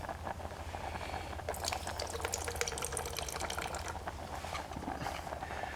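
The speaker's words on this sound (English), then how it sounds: "I'm draining most of the fluid out of the olives, but not all of it." Brine drains out of a container of olives while making canteen cup pizza pasta, a continuous splashing trickle of liquid with a burst of brighter, denser pouring in the middle.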